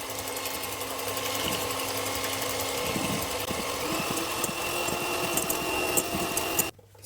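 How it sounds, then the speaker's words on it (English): An electric whisk beats sugarless egg whites for tiramisu, a steady high motor whir with faint rattling against the bowl that runs for several seconds before it cuts off abruptly near the end. "We whisk the whites without any sugar."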